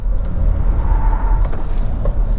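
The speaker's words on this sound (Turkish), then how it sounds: "Bir de kış lastiği olduğu için kış lastiğin sesi de var." Steady road roar and tyre hum come from an MG4 electric car on winter tyres cruising at 95 km/h, a close, even low rumble with faint knocks and no talking.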